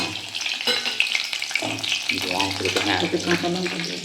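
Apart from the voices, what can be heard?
garlic frying in hot mustard oil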